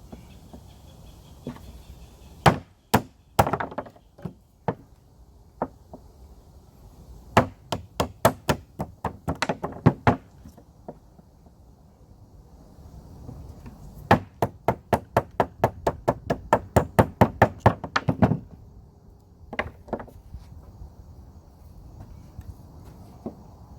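Fatwood sticks being split outdoors for fire starting, a series of sharp wooden cracks and knocks coming in irregular bursts of rapid strikes with short pauses, close and crisp over a quiet background.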